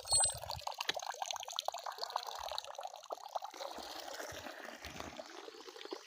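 Water pours from a pump in a steady, splashing stream with trickling and gurgling, fairly quiet and continuous throughout.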